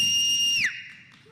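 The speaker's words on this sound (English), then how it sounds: "They built and built and built until a loud whistle blew." A loud, shrill whistle blast held steady for over half a second, then sliding down in pitch as it cuts off, close and prominent.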